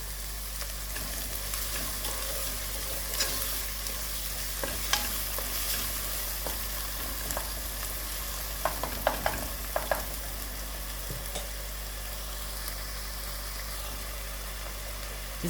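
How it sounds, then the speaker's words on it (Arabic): Crushed garlic and grated tomato frying together in a pan, a steady low sizzle with occasional light clicks and taps of a spoon against the pan, close and without talk. "دركا نجيب حبه طوماطيش اللي كنت سكرفشتها نزيدها تتقلى معاها"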